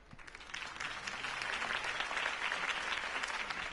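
Steady applause from a crowd in a Batman video game, a dense wash of clapping that swells in and holds at an even, fairly loud level throughout.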